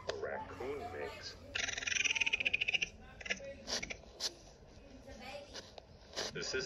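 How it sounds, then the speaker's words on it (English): A raccoon's call from an animal sounds app: rapid, chattering trills and squeaky churrs in short bursts, close and moderately loud, with brief gaps between them. "This is the sound a raccoon makes."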